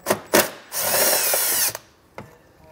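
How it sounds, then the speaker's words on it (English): Power tool with a 10mm socket removing a 10mm bolt on a 2023 Honda Odyssey, a loud close whir lasting about a second between short knocks and clicks, with no talk. "our 10mm head bolt we'll remove with our 10mm socket here"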